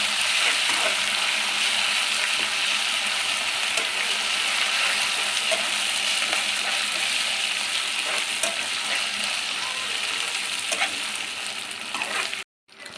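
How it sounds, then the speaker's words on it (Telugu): Half a spoon of ginger garlic paste frying in a pan for semiya tomato upma, a steady close sizzle with faint stirring scrapes, running continuously and alone before cutting off abruptly at the end. "హాఫ్ స్పూన్ అల్లం వెల్లుల్లి పేస్ట్ యాడ్ చేసుకోవాలి. వేసుకొని బాగా ఫ్రై చేసుకోవాలండి"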